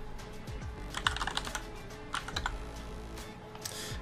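Computer keyboard typing close by, with irregular bursts of keystrokes and brief pauses while a username is entered, no speech.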